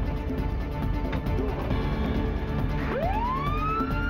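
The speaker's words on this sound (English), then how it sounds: "As the ambulance pulled away" Ambulance siren rising into a loud wail as the vehicle pulls away from an accident scene, the sweeping tone climbing over steady engine and traffic rumble, with no talking.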